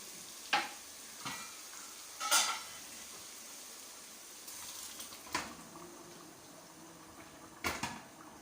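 Achari-style dal hits hot tarka in a pan and cooks over a soft, steady frying hiss, with a few sharp spoon clinks and scrapes scattered through it and no voices.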